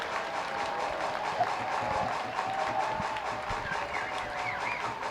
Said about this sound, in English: The 2-strike clap picks up.